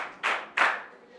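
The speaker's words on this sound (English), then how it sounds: "Let's clap for her." Two sharp, loud claps ring out close by at a school health talk, each fading quickly into a quiet room.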